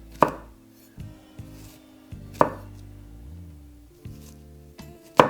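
A knife slicing through an onion on a board, a few distinct, crisp cuts spaced about a second apart, close and clear with quiet pauses between strokes.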